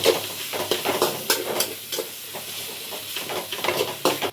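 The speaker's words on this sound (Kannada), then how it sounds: "ಟೊಮೆಟೊ ಹಾಕೊಂಡಿದ್ದೀನಿ. ಕರೆಕ್ಟಾಗಿ ರೋಸ್ಟ್ ಮಾಡ್ಕೊಳ್ಳಿ. ರೋಸ್ಟೆಲ್ಲ ಫ್ರೈ ಮಾಡ್ಕೊಳ್ಳಿ." Tomatoes fry in a pan for a tomato gojju, a soft steady sizzle broken by repeated scraping stirs of a spoon, close and moderately loud.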